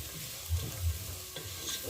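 Carrots sizzle in a hot pan for lentil bolognese, stirred with a couple of soft scraping strokes over a steady close frying hiss, with no voices.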